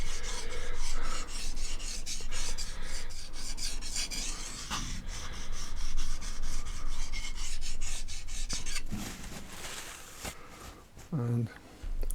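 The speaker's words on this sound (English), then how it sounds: "it's like that on the first sharpening of a knife" Freehand sharpening of a Helle Nord knife on a stone makes repeated gritty rasping strokes in an even back-and-forth rhythm, close and fairly loud, with someone talking over parts of it.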